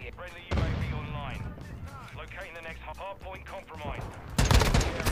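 Rapid gunfire in Call of Duty Modern Warfare 2, played in third person, crackling in bursts beneath someone talking, with a louder close volley of shots near the end.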